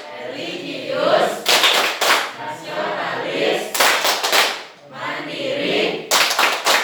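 A school class claps a rhythmic chant together, with sharp bursts of group clapping in a set pattern alternating with students' voices chanting in unison, loud and close in a classroom.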